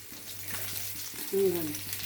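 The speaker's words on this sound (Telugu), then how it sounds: "వచ్చినాక ఈ కళాయిలో కొద్దిగా నూనె వేసి ఇలా ఫ్రై చేస్తున్నాను అనమాట" Fish pieces shallow-frying in a little oil in a kadai, marinated with turmeric and ginger-garlic paste: a soft, continuous sizzle with light stirring taps, and a brief tonal clink or squeak midway.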